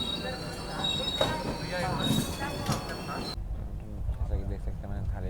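Vikramshila Superfast Express rolling along with loud, high metallic wheel squeal and rumbling rail noise, then the sound dropping to a muffled carriage interior with faint voices.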